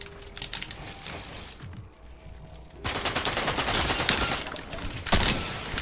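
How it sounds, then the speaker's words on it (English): Rapid Fortnite gunfire crackles in close bursts, quieter shots and clicks first, then a dense loud barrage of repeated shots mixed with keyboard tapping. "how does he keep shooting me through my stuff?"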